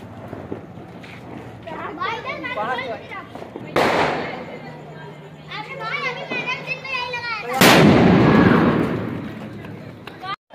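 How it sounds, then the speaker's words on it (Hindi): A big Diwali firecracker bomb goes off with a sharp bang after children's chatter and shouting outdoors, followed by a second loud blast and rumbling noise as kids keep talking. "अभी हम लोग जा रहे हैं ये वाला बम लगाने बड़ा बम लगाए"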